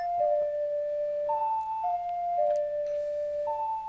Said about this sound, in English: play the Song of Time backwards.